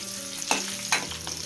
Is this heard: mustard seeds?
yes